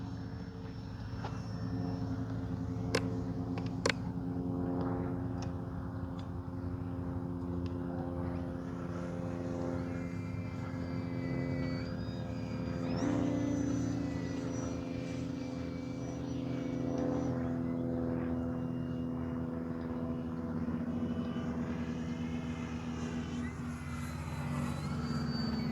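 Kavan Pulse 2200 V2 RC airplane droning overhead before a storm, a steady propeller whine that shifts pitch as it passes, with a couple of sharp clicks early on.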